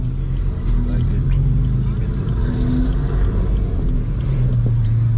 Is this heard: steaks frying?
no